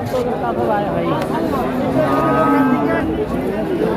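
Friesian heifer calves moo loudly and repeatedly at a busy cattle market, their calls overlapping with steady crowd chatter and bargaining voices nearby.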